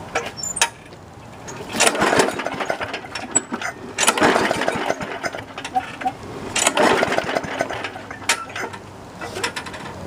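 Several short bursts of a gasoline lawn mower being pull-started in spring, each ratcheting rip of the recoil cord and sputtering engine attempt separated by brief pauses, fairly close by with no talking.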